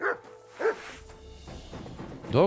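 Dogs in Kingdom Come: Deliverance 2 barking in three loud, close bursts spread out over a few seconds, with quieter game ambience between them.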